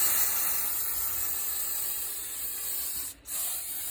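A steady, close hiss of a spray bottle misting a plant runs almost continuously, broken once by a brief pause before the mist resumes.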